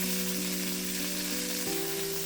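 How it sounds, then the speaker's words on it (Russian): Chicken pieces browning on their second side in a frying pan give a steady, dense sizzle that carries on unbroken, with a low hum underneath and no talking. "И обжариваем вторую сторону до такого же золотистого цвета"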